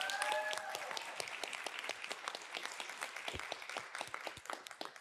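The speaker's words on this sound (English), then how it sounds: "Give him a round of applause." An audience applauds at a business growth talk, a dense burst of many hands clapping that starts loud with a bit of cheering and slowly thins toward the end.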